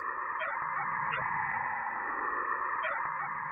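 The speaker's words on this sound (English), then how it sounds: "The mystical sound of the universe, recorded by NASA spacecraft." Eerie space sound captured by a NASA spacecraft: a steady, wavering electronic hum with a few brief rising chirps, continuous and fairly quiet throughout.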